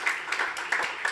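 An awards-ceremony audience claps for a category winner, a short burst of steady, moderately loud applause with light pulses, no voices over it.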